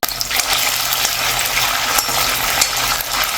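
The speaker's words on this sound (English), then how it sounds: "Let's fry 300 grams of paneer in batches until it turns a beautiful light golden brown." Paneer sizzles in hot oil in a cast iron kadai, a steady, loud broadband crackle and hiss that holds evenly throughout with small popping spikes.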